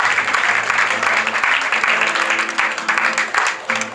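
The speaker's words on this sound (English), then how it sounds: "Warm round of applause" A warm round of audience applause at a mentalist's stage show, close, dense clapping that runs steadily for about four seconds with murmured voices underneath.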